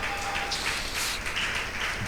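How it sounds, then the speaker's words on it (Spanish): Church congregation applauding during a sermon, a dense, even wash of clapping held for the whole stretch, moderately loud and unbroken. "¿Cuánto le dan un aplauso fuerte al Señor?"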